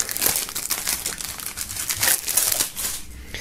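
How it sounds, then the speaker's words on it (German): Plastic shrink wrap is torn and crinkled off a record sampler bundle, a close, continuous crackling and rustling with irregular louder bursts, no speech. "nachdem der Sampler hier noch in Folie ist, werden wir das mal aus der Folie holen"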